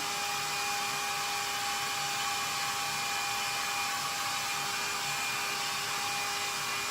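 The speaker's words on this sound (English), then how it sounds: "just a few minutes with the hair dryer, and everything is pretty well dry" A hair dryer blows steadily at full power, a loud continuous whooshing whine with no pauses or voices.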